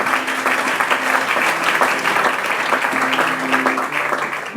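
Church congregation clapping and acclaiming during a sermon service; a loud, sustained wave of applause with a few faint sustained tones beneath it, steady across the whole stretch and without speech.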